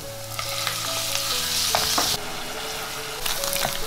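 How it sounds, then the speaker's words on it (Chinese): Diced pork for char siu filling stir-fries in hot oil with sautéed shallots, a steady close sizzle broken by scraping stirs of the spatula in the wok. "炒香了把肉粒加进来煸炒"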